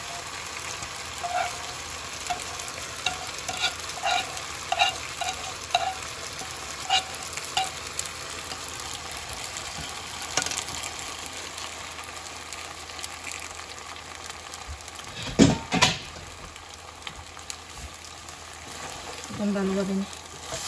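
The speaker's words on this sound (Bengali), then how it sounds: "এখন ভালোভাবে নেড়ে ছেড়ে মিক্স করে নেব" Cream cheese mushroom pasta is stirred and mixed in a pan with steady scraping strokes and a soft sizzle underneath, closer clatters standing out now and then, and faint talk in places.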